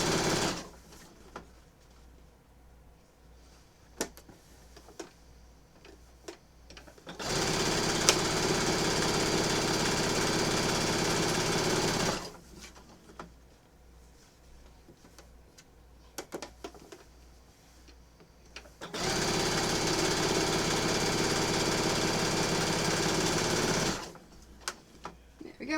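A sewing machine binding a quilt runs in two long, loud stretches of steady mechanical whirring. Between them come quieter gaps with a low, regular ticking and occasional clicks.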